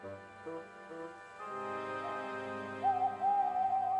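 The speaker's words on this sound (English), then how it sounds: "Whenever that owl hoots" An owl hoots on a moonlit night by a lake: a few soft, low hoots open the clip, then give way to a sustained tonal swell with music-like layers underneath, and no voices.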